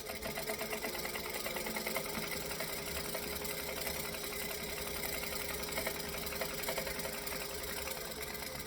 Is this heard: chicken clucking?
no